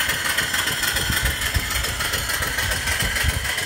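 A steam engine runs on a boiler holding about 100 pounds of pressure, making a continuous mechanical chugging hum with a rapid, even pulse, loud and close throughout, with no voices.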